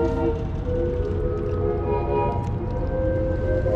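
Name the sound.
boat whistle in the distance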